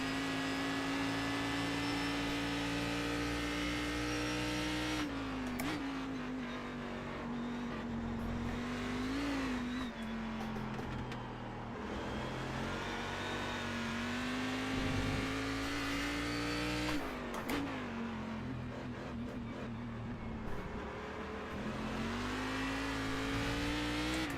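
Cadillac CTS-V.R race car in iRacing at Motegi, its 470-horsepower V8 roaring steadily at high revs with brief drops on gear changes and lifts, loud and close throughout without speech.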